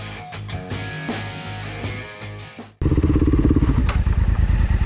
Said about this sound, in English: we're gonna ride down to this area and you're gonna go up these